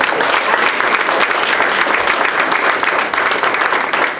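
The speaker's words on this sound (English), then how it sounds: "I think we need to give both of them a big round of applause" School audience at a middle school for the arts applauds loudly and steadily, a dense wash of clapping hands that fills the whole stretch without letting up.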